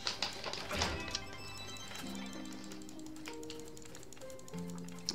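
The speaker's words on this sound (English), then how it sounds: "Do you hear this frantic clicking?" Frantic mouse clicking while opening gem boxes in the game Trove, rapid irregular clicks and taps scattered through the clip over soft tonal game sounds, fairly close and without talk.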